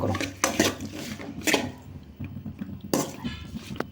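Chopped tomatoes stirred in oil in a pan for tomato thokku, with a few close scraping and clinking strokes of a spoon against the pan over a soft, quiet sizzle.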